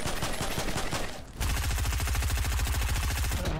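Rapid automatic gunfire from guns in Fortnite, two loud sustained bursts of fast, evenly spaced shots with a brief pause between them, close and dominant.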